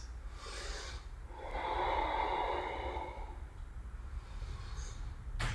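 Deep, audible breathing through a dynamic yoga sequence held in reversed warrior, with a long slow exhale swelling in the middle and quieter breaths around it over a low room hum, no talking.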